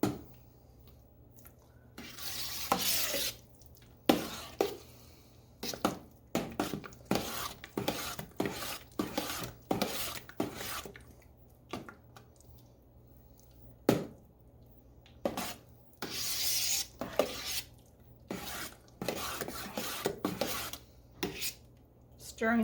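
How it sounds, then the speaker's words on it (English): Warm homemade applesauce stirred in a pot, with soft wet scraping and squishing strokes in uneven bursts and occasional spoon taps on the pot, fairly faint and close. "Stirring this around so it gets mixed up real good"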